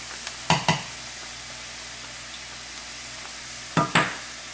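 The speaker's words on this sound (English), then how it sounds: "I have been sauteing the onion and the shallot for about 30 seconds." Onion, shallot and grated ginger sautéing in a pan, a steady soft sizzle underneath with a few sharp clacks of a utensil against the pan in two pairs, no talking.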